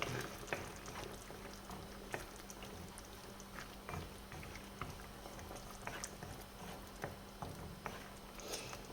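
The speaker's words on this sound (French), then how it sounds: "Et on va laisser mijoter le tout 5 minutes" Scrambled eggs with chicken hearts and parsley simmering in a pan, a soft, continuous bubbling with small pops and crackles, low and close, unaccompanied by speech.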